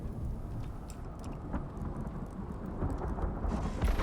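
Thunderstorm in the survival video game ICARUS: a steady wash of rain and rumbling low thunder, building slightly louder toward the end, with no talking.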